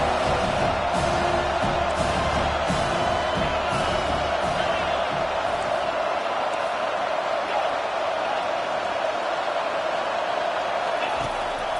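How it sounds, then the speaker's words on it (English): A stadium crowd at a football game roars steadily on third down, a dense, continuous wall of cheering and whooping that stays loud throughout. "Decibels rising as the crowd gets behind this defense on third down"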